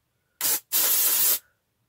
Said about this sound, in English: I got the OB dry texturizing spray.